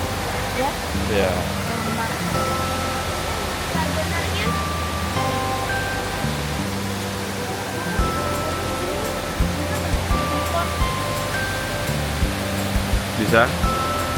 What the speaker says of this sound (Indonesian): Ini air terjun buatan.